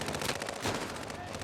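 Dense, continuous automatic gunfire from Call of Duty: Modern Warfare (2019) fills the mix during a multiplayer match, with a faint voice mixed in beneath the shooting.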